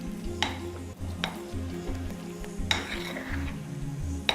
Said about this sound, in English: you just stir it till it's nice and smooth